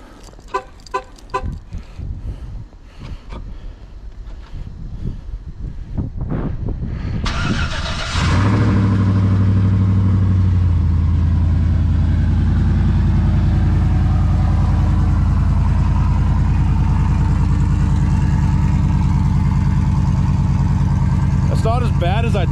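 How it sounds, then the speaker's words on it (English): A modern truck engine with open headers feeding a Y-pipe and a 3-inch turn-down exhaust and no muffler cold starts after some clicks and cranking, then settles into a loud, rough, rumbling idle. "I really want to hear what a cold start sounds like."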